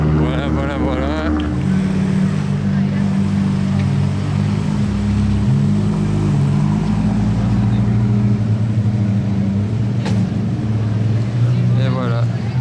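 A Ferrari Monza SP2 engine runs just after a cold start outside a casino, a loud, steady deep drone with a slight rise in pitch near the start, close and continuous.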